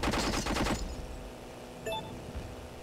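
Rapid automatic gunfire in the video game Airfix Dogfighter rattles for under a second, then a steady rumbling din of distant explosions and battle noise continues with a few faint metallic pings.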